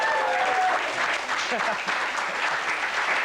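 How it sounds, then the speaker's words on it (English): Studio audience applause on a quiz show after a contestant scores points, a dense, loud burst of clapping with a voice talking over the start. "Round of applause."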